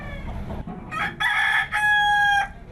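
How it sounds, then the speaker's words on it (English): Roosters crow aboard a crowded ferry in East Timor, kept below deck among goats, sheep and chickens; two or three long, loud, nearby crows follow one another over a low murmur of background noise. "There are some roosters too."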